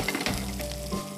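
Onion, mustard seeds and asafoetida fry in a hot pan, giving a steady close sizzle with faint stirring scrapes and no talk over it.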